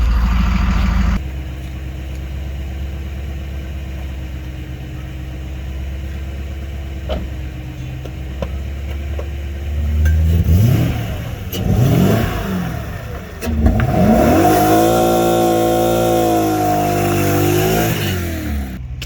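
A BMW E34 540i Touring engine idles steadily up close, then is revved in several rising and falling bursts toward the end, loud and with no talk over it.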